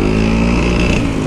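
A motor vehicle roars past loudly and close on a logging truck route through a forest, a brief steady engine drone with no talk.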